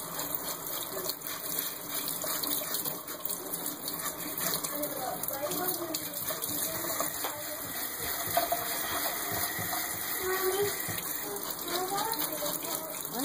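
Hot water gushes steadily from an outdoor tap while rainbow trout are cleaned, a continuous close splashing wash under chatting voices throughout.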